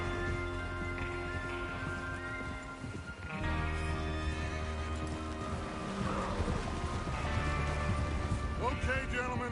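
Horses whinny loudly over a busy bed of music and hoofbeats in Red Dead Redemption 2, several neighs rising and falling across the scene.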